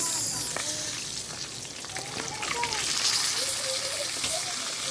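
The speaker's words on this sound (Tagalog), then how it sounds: "ito ang pinaka-struggle pag nagpiprito ng bangus kasi siya ay matilamisik, masakit, makatalsik" Milkfish (bangus) frying in hot oil gives a loud, continuous crackling sizzle with sharp spattering pops, heard close up.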